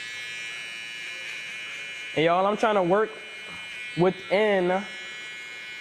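Electric hair trimmer used for a fade haircut, a steady high buzz running throughout, close and continuous, with someone speaking over it midway.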